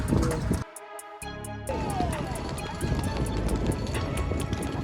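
A horse's hooves clip-clop in a quick, steady rhythm near the pyramids in Egypt, close and clear, with wind rushing in the background.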